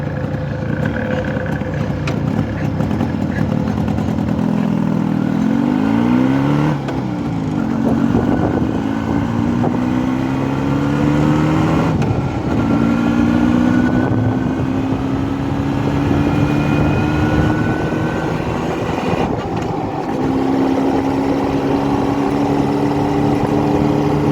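An Opel Kadett with a 5-speed gearbox drives along, its engine note rising and falling through several gear changes, steady and fairly loud with wind and road noise throughout.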